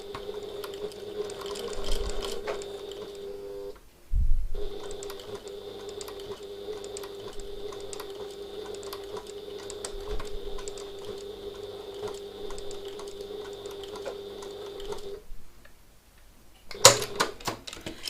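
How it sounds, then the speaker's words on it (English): A sewing machine stitches a tote bag strap in fast, even runs of mechanical whirring, pausing briefly near the start and again near the end, close and fairly quiet, with no voices. "So I've just sewn over that a couple of times to make sure that's nice and secure on the end there"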